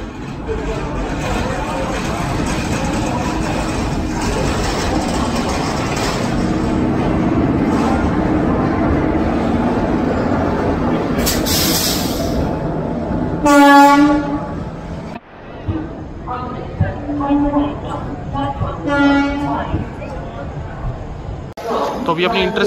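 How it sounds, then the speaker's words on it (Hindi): An Intercity Express train pulls into platform 3 at Virangana Lakshmibai railway station, its rumble loud and close, followed by several horn blasts amid station chatter and someone talking. "तो अभी अपनी इंटरसिटी आ चुकी है प्लेटफॉर्म नंबर 3 पर"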